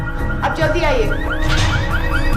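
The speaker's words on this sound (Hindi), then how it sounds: "वो गाड़ी का अलार्म बज रहा है।" A green Volkswagen car alarm sounds as a quick run of repeating, evenly spaced rising chirps, partly under someone speaking.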